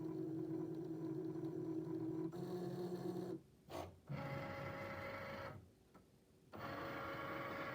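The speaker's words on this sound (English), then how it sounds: "what we have on our Cricut Maker is a rotary fabric cutting blade, and you can kind of see how it is doing its magic right now" A Cricut Maker running a rotary fabric-cutting blade through fabric for a mask, giving a steady mechanical whir with motor hum and changing tones as the carriage moves, broken by two short pauses before it starts up again.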